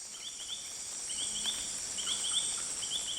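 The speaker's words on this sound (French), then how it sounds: "Ces 4 notes répétées plusieurs fois, ce n'est pas un oiseau, mais bien notre grenouille" Repeated series of short, high chirping notes in groups of about four, calling against a steady insect drone in a forest.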